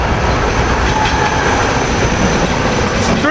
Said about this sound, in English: Here we got the SEPTA dead-headed train of Silverliner 4s.